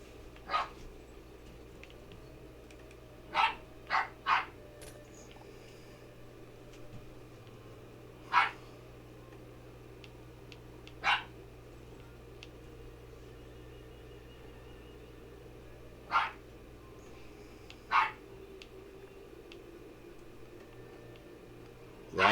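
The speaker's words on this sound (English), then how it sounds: "I'm not sure why she's doing so much barking lately." A dog barking indoors, a series of sharp single barks spaced irregularly, some in quick pairs or triplets, moderately near and clear over a steady low electronic hum.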